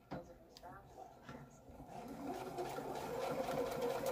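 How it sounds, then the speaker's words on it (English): A domestic sewing machine stitches fabric for a first-time sewer, its steady motor hum building after about two seconds and running continuously underneath conversational talk that occurs earlier in the clip. "The machine's going to move you forward."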